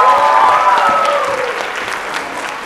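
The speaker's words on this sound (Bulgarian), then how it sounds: "Има защо наистина да ги аплодираме." Close, loud applause from an audience for a children's music group, dense steady clapping with a bright tone sliding down underneath, continuing evenly throughout.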